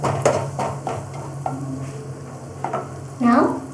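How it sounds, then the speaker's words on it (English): Turmeric powder fries in a pan with a soft continuous sizzle, broken by several scraping stirs of a utensil against the pan and a louder swirl near the end. "Fry a little bit."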